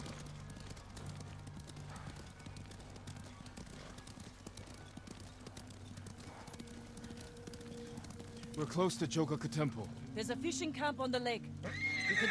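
Horses in Ghost of Tsushima clip-clop steadily near a temple and lake, with a whinny breaking through late on; men converse throughout over low ambient music.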